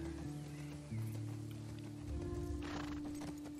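A horse in The Last of Us Part 2 snorts and whinnies over soft clip-clopping hooves, faint and mixed with low ambient game sounds, with no speech over it.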